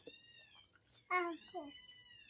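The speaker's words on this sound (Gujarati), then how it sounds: "એક બિલાડીનું બચ્ચું આવ્યું છે" A kitten meows inside a shop, with one strong, clear meow close by followed by a shorter, softer second call.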